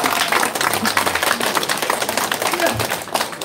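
Audience at a political campaign rally clapping for a person asking a question, a brisk, dense patter of many hands over several seconds, fairly loud and close, with some voices mixed in.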